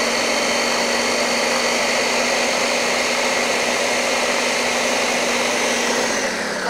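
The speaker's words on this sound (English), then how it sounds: "we got to line this up because this is a fussy blender" Countertop blender whirring through tomato basil soup with thyme, a steady loud motor drone held for several seconds before winding down at the end, with no talking.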